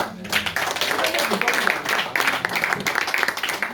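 Congregation clapping at a church preaching service, dense steady applause filling the whole stretch with a voice faintly mixed in.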